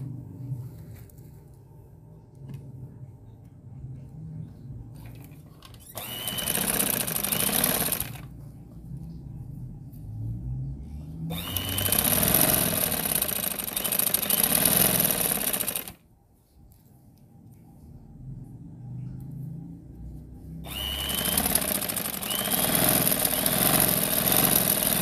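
A sewing machine runs straight stitches along a velvet kaftan gown seam in three loud, rapid bursts of several seconds each, separated by quiet pauses with faint background hum.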